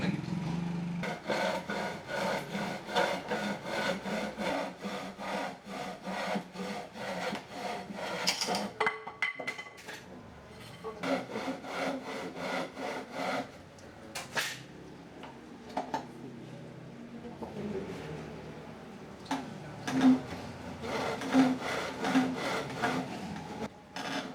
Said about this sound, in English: So now time to cut it, and I'm gonna do my best attempt at cutting straight lines.